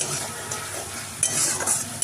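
Onion paste frying and being stirred in a pan for a Bengali posto ilish dish, a steady close sizzle with scraping stirs and a few louder spatula knocks near the end, no talk.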